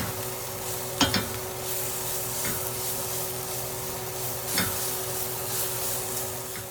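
Spiced vegetables for fajitas stirred in a pan, with a steady sizzle throughout and a few sharp utensil scrapes and knocks, two louder ones near the start and middle.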